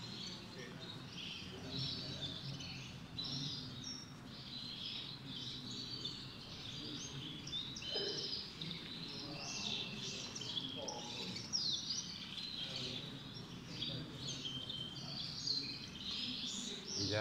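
Gloster canaries sing at an indoor canary show, a dense, continuous chorus of high trills and chirps from many birds, steady and moderately loud throughout, with a murmur of people talking in the background.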